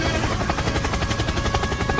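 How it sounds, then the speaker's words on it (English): A helicopter's rotor thumps steadily and loudly in the video game Dude Theft Wars, mixed with rapid bursts of gunfire in a dense, noisy din. "Helicopter, helicopter!"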